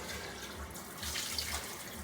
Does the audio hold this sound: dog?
no